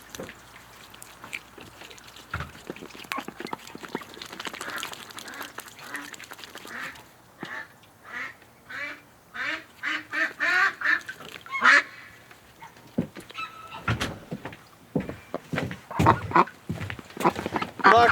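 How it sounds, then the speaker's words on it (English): Ducks quack in short repeated bursts, close and fairly loud, in a winter duck-keeping setting, with a few brief breaks between calls and a voice murmuring softly at times. "Relax, little duck."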